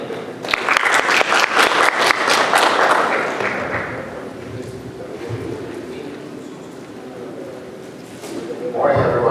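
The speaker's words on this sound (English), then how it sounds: "Please give a round of applause and welcome Dr." Audience applause greets a speaker at a hospital psychiatry residency event, loud clapping at first that fades into a softer, thinning patter before a voice briefly rises at the end.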